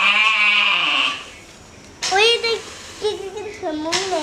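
A sheep brought home for Eid sacrifice bleats loudly and close, a long wavering cry followed by several shorter bleats, with people talking nearby.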